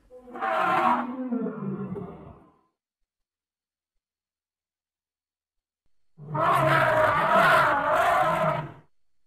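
Two deep, rumbling elephant calls, each lasting a couple of seconds and separated by a long silence, loud and close.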